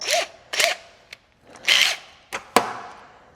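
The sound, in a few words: power tool disassembling Kawasaki ZX6R motorcycle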